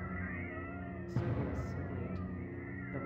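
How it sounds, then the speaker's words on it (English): Cats meowing in the video game Howler, a brief sharp meow followed by a fainter second cry over a low droning game soundtrack. "Evil cats."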